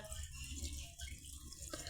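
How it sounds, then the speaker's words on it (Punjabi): Water trickles slowly down a blocked kitchen sink pipe, a faint, uneven gurgling flow with low running water and no talk. "ਰੁਕ ਰੁਕ ਕੇ ਪਾਣੀ ਜਾਂਦਾ ਏ ਇੱਕਦਮ ਨਹੀਂ ਜਾਣਾਗਾ"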